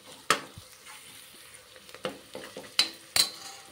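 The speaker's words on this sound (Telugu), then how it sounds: "పచ్చివాసన పోయేంత వరకు ఫ్రై చేసుకుందాం." Pieces frying in a pan with turmeric and salt give a continuous sizzle, broken by several sharp scrapes and clinks of a spatula stirring against the pan.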